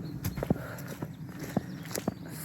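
Horses shift and step in a farm stable, uneven hoof clops and thuds close by against a steady background hum, with no talking.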